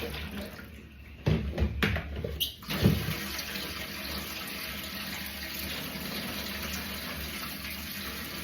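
A hot water tap runs steadily with a continuous hiss of flowing water, after a few brief clunks and splashes near the start.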